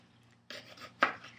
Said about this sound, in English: I'm just going to do very thin slices